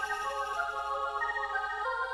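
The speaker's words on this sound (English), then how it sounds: "1 second, my phone is going on" A mobile phone rings with a steady electronic tone that repeats and holds evenly throughout, fairly clear and alone with no talk.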